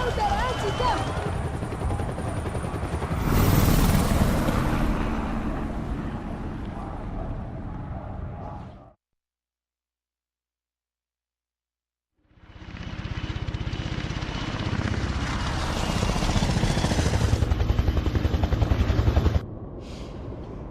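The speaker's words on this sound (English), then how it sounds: "Boss sends his own private helicopter to get an agent back." Helicopter in the video game Beyond: Two Souls, a steady loud rotor and engine drone that cuts out for a few seconds and then resumes just as strong.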